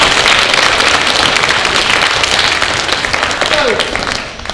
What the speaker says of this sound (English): We give Josh a round of applause, please.